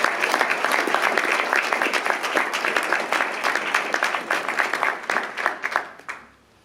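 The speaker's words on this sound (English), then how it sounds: "I think that's worth a round of applause as well." Sustained, dense applause from a school prizegiving audience in a hall, steady for several seconds before thinning to a few claps and fading out.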